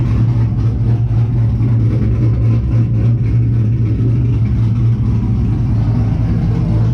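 A car engine runs with no muffler fitted, a loud, steady, close-up droning rumble with a strong low tone and fluttering exhaust pulses that holds constant throughout, with no voices.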